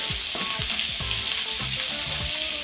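Beef hitting hot oil in a pan for Mauritian fried rice, a loud, dense, continuous sizzle close by with soft thuds of pieces landing, no talking.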